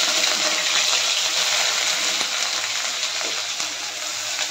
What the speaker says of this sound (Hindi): तेल हमारा गर्म हो गया, गैस थोड़ा सा कम करेंगे और इसमें प्याज का तड़का लगाएंगे